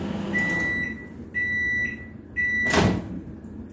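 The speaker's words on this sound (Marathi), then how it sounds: "मायक्रोवेव्ह मध्ये 1 किलो गूळ मी 1 मिनिट गरम करून घेते" Microwave oven heating a kilogram of jaggery, giving three short steady electronic beeps at even intervals, followed by a loud clunk as the door opens, close and clear over a low hum.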